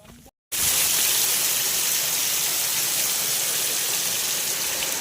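Heavy rain pours through a forest, a dense, steady roar that starts abruptly after a brief gap and holds loud and unbroken to the end.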